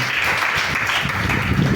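Worshippers in a Sunday church service clap and acclaim Jesus, a continuous dense patter of applause filling the room, close and even in level without any voice over it.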